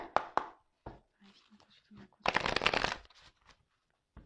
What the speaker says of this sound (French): je vais prendre quelques cartes pour voir qu'est-ce qu'il se passe